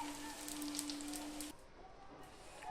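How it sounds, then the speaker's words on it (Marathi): Pieces of edible gum frying in hot ghee for urad dal laddoos, a soft steady sizzle with light crackling pops that eases off partway through. "आता हा चौथा भाग जो खूप बारीक होता तोही आपण या ठिकाणी असा तळून घेणार आहोत."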